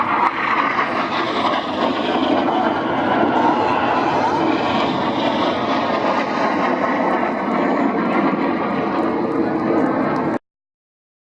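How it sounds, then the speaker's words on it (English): A Red Arrows jet flies low over an airshow crowd, a loud continuous roar of jet noise sustained for about ten seconds before it cuts off abruptly, with an announcer talking over it. "Here comes a low jet. This is Red 9."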